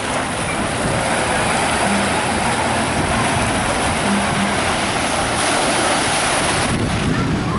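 Water rushes and splashes at the run-out of a waterpark slide in Cancun, a steady loud wash of churning water with wind buffeting, as a rider comes down; no talk is heard.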